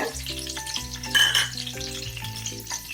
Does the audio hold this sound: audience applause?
no